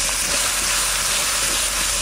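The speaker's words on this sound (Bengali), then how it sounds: "একটু জল দিয়ে দিচ্ছি" Water poured into a hot pan of coriander, cumin and chilli: a loud, steady, bright sizzling hiss that keeps going through the whole moment without pause.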